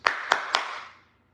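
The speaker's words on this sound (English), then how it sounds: "3 claps for Kenny Dillingham and the Arizona State Sun Devils." Three sharp hand claps in quick, even succession, close and clear, each with a short ringing tail, cheering on the Arizona State Sun Devils football team.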